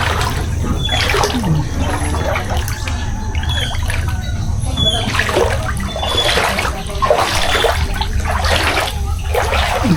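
Knee-deep floodwater inside a house sloshes and splashes continuously as someone wades through it, with rhythmic surges and trickles close by and a voice speaking over it.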